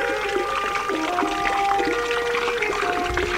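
Water streams from the spout of a village fountain at Pumareña, a steady close trickle and splash into a basin that fills the scene with a continuous liquid burble.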